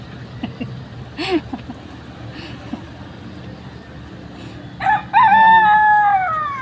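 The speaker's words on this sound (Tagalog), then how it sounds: "Tapos may manok. Nagtuktugaok." A rooster crows once, loud and fairly near, in a rural provincial yard where a man is sweeping and smoking out leaves; fainter bird calls and scattered background noise come before the crow.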